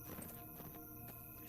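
Horse hooves in the Lord of the Rings Online video game, a quick, quiet clip-clop of a few steps under a steady sustained musical background.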